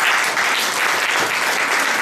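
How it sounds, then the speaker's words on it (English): Warm, steady applause from an audience at a Korean American women's community dinner, a dense continuous wash of many hands clapping at even loudness throughout. "Let's give her a warm round of applause."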